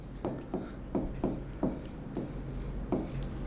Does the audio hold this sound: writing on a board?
yes